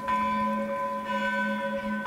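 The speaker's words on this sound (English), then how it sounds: "I'm just gonna have to ring the bell and hope for the best." Sustained metallic bell tone from the Vermintide video game, a single struck bell ringing with clear harmonic overtones, restruck about halfway through and left to hum on its own without voices.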